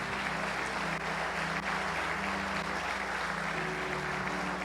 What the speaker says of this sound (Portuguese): Podemos aplaudir esse pessoal aqui?